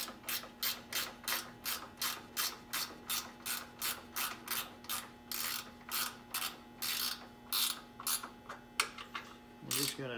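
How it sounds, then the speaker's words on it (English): A ratchet tightening bolts on a Victory Cross Country or Magnum motorcycle backrest mount, rapid close clicking in rhythmic bursts of strokes, repeated steadily and loud over a faint steady hum. "We're just going to tighten these down just a little bit."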